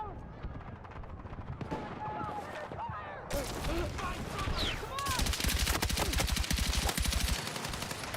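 Rapid automatic gunfire in the video game Battlefield 6, building from scattered shots into sustained bursts of fire with a dense, noisy battlefield backdrop.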